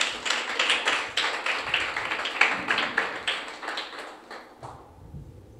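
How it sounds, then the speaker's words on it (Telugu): An audience at a religious gathering claps on request, a short burst of brisk, fairly close hand claps that gradually thins and fades out over a few seconds. "చప్పట్లు కొట్టాలి ఒకసారి."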